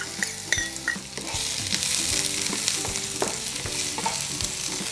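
Onions frying in a spoonful of olive oil in a pan sizzle steadily and close. A few stirring scrapes and utensil knocks cut through, with no voices.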